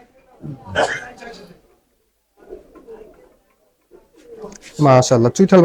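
Pigeons coo inside a pigeon shop, low throaty calls coming in short bursts between stretches of quiet, with a voice talking loudly near the end.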